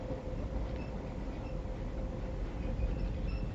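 In the video game Blackwood Crossing, a moving train carriage gives off a low, steady rumble with faint rhythmic clatter, quiet and continuous throughout, with no one speaking.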